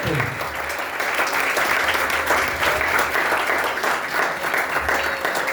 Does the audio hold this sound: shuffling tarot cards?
no